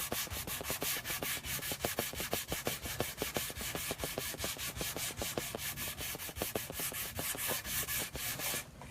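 A shop prop is hand-sanded with quick, even back-and-forth strokes, a rhythmic rasping scrub that stays close and steady throughout with no talking.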